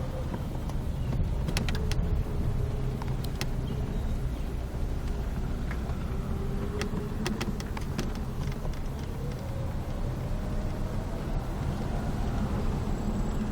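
A truck driven slowly into a parking lot, its engine a steady low rumble throughout with faint clicks and rattles, no talking.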